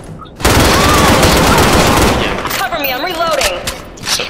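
Rapid P90 Fury gunfire in a first-person shooter video game, a sustained loud burst of automatic shots followed by trailing reverberant echoes and pinging effects.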